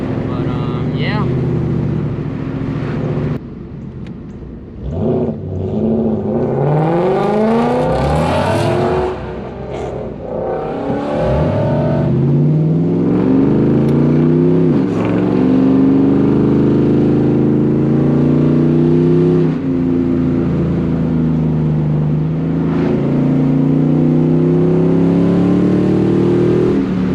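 A Ford Mustang engine revs and accelerates repeatedly on a tree-lined back road, pitch climbing and falling in long sweeps, loud and close over gusty wind noise.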